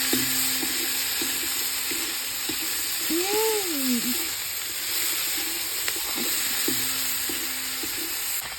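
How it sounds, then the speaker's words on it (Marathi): Jackfruit vegetable stir-fried in a pan over a wood-fired stove gives a continuous sizzle with repeated light scraping strokes. A steady background hum and a brief rising and falling whistle-like tone run underneath. "आता भाजी थोडी चांगली परतून घ्यायची"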